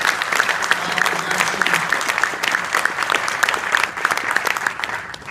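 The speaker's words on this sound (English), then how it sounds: "So let's give him a round of applause." An audience at a New York governor's press conference in Niagara Falls breaks into a round of applause, a steady wash of many hands clapping together for several seconds with only faint voices beneath.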